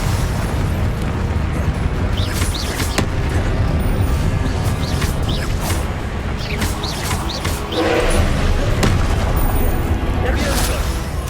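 Confringo blasting spells in Hogwarts Legacy burst in a dense, loud barrage of explosive booms and crackling impacts, with brief magical whooshes layered over a constant rumbling game soundscape.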